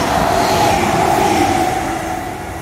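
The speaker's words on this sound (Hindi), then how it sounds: "Ek ye train aa gayi." A train pulls into a small suburban station near Zurich, Switzerland, with a loud, steady rumbling roar and a sustained tonal hum that eases off slightly toward the end.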